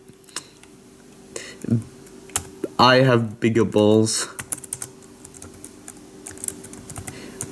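Scattered taps and clicks on a small netbook keyboard, quick light keystrokes around a short burst of speech and a spoken exclamation.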